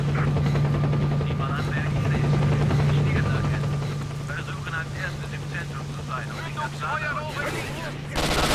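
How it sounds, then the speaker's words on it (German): A helicopter in the video game S.T.A.L.K.E.R. Shadow of Chernobyl, set in a ruined city, drones with a steady, low rotor hum throughout, alongside scattered gunfire and other game noises. "Ich höre einen Hubschrauber."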